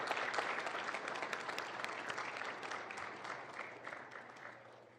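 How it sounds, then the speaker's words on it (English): A room full of people at a mayor and council meeting claps steadily for several seconds, the applause fading slightly toward the end. "let's give a round of applause for Happy Hour for their work for this effort"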